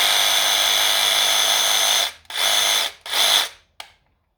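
A Dewalt 20V cordless jigsaw runs with a loud, steady high-pitched motor whine for about two seconds, then cuts out and restarts in two short bursts before a final brief blip, with no talking.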